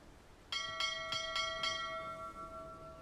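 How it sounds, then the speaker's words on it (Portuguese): A cart driver in the video game Dragon's Dogma 2 rings a bell five times in quick, even succession. The clear metallic chimes ring out and then fade over a faint ambient background. "O cara bate o sino pra avisar que ele tá saindo."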